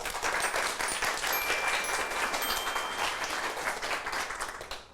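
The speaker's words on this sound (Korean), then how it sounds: "박수로 청해 주시죠." A Korean Christian talk concert audience gives sustained applause, a dense, steady clapping that stays loud for several seconds before tapering slightly.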